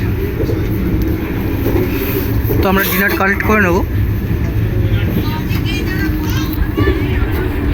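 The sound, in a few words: Vande Bharat sleeper express train running at night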